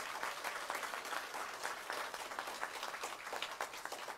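An audience at a Gwangju mayoral candidate's campaign office opening claps steadily, a busy rain of many hands at moderate distance that holds evenly throughout, with no speech on top.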